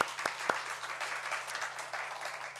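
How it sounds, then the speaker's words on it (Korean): Steady applause from a church congregation filling a large room during a Sunday worship service, continuous dense clapping at moderate volume with a few sharper claps standing out early. "우리 하나님께 영광의 박수 올려드리겠습니다"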